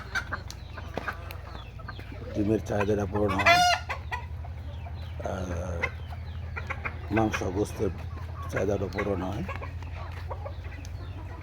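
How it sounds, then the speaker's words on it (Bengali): Native village chickens at a small home farm cluck steadily, and a rooster crows once near the middle. Someone talks over the birds throughout. "আমি মূলত ব্রয়লার মুরগি পছন্দ করি না এই জন্য বাড়িতেই এগুলা পালি"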